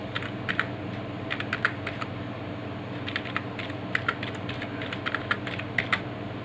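Steady typing on a computer keyboard, close and moderately loud, with clusters of quick key clicks separated by brief pauses over a low background hum.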